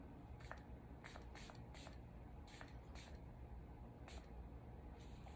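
Several quick pumps of a fine mist spray from a P Louise cosmetic bottle, short soft hissing bursts in an irregular rhythm, close and faint over a low background hum.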